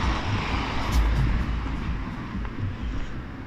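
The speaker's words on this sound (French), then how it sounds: "je vais attendre que la voiture passe" A car passes by outdoors, a broad, steady roadway rush that is loudest early on and gradually fades as it moves away, with no talking.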